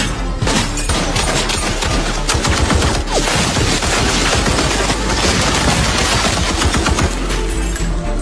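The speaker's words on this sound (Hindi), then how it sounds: "उसने दरवाजे पर कई गोलियां चला दी" Dense, sustained gunfire with rapid overlapping shots and bursts, loud and continuous throughout, like a heavy exchange of automatic fire.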